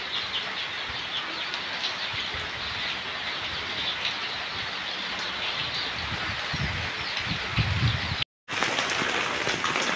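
Steady rain falls on a vegetable garden where leafy greens are being picked, a dense, even hiss that continues throughout at moderate loudness. There is a brief dropout near the end.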